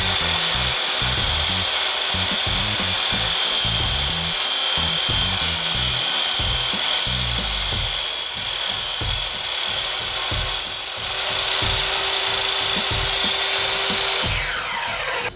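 A handsaw works slowly through an aluminum rail wrapped in cloth, producing steady rhythmic rasping strokes with a grinding, scraping texture throughout, no talking.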